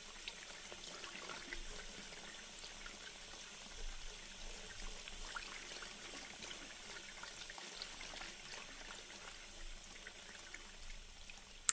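Water running and rinsing through hair during a relaxing hair wash, a soft, steady hissing flow lasting throughout, fairly quiet and close, with no talking.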